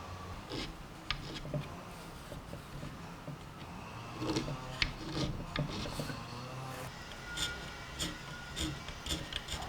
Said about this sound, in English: I found the best way to get right up to the edge of the corners was to use my small scraper blade by hand.